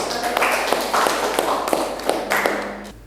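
Students in an Indonesian classroom clap for a classmate after a poetry lesson, bursts of close hand claps mixed with voices talking.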